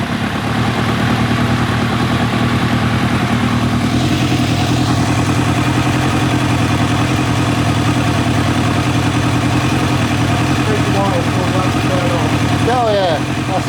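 A 1990 Kawasaki ZZR1100 motorcycle with no airbox fitted idles loudly and steadily up close, its even engine rumble continuing unbroken throughout, with brief voices faintly in the background.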